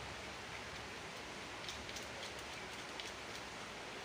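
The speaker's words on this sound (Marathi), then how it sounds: "आमच्याकडे तर भरपूर पाऊस सुरू सुरू आहे" A faint, steady hiss of heavy rain falls outside, an even wash of noise with occasional soft drips, no voices.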